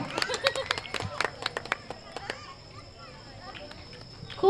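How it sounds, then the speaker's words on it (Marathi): An audience at a village Home Minister prize game show applauds a winner with a short run of scattered, sharp claps. The clapping is near and fades into quieter murmuring, with voices heard faintly. "सर्वांनी टाळ्या वाजवायच्या"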